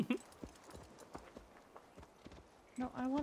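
Horse hooves clip-clop in Assassin's Creed Valhalla, a quick, light, irregular patter of muffled hoofbeats at moderate distance, ending in a brief louder tonal game sound.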